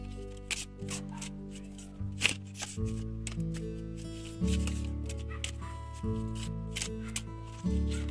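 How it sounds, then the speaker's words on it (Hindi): Oracle cards are split into piles by hand, giving close, crisp riffles and slaps of card stock in short bursts. Soft tonal music plays steadily underneath. "फिर ओरेकल में से कार्ड डिवाइड कर लेंगे"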